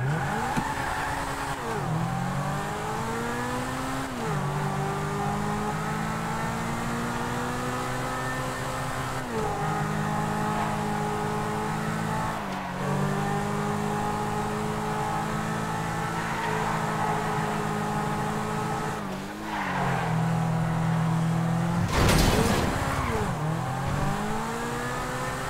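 Vaca sports car driven in a video game, its engine droning loud and steady with repeated upshifts dropping the pitch, then a sharp crash-like burst near the end; no talking.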